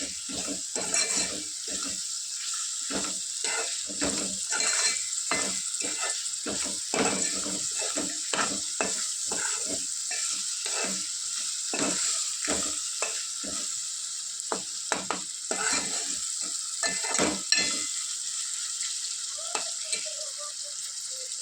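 Food sizzles steadily in a pan while a spoon stirs it in quick, repeated scraping strokes, close and fairly loud throughout, with no talking.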